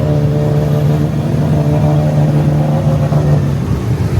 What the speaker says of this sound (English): The designer of the engine is now ripping the car